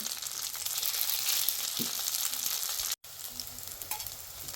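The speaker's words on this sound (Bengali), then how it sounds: "সব কয়টা এইভাবে ভেজে নিব।" Soybean fritters (bora) frying in oil, a bright steady sizzle close by, with a few soft knocks from turning them and a momentary cut partway through.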